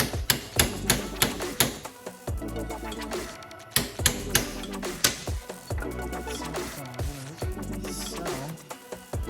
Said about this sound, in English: then we'll just tap in this bushing here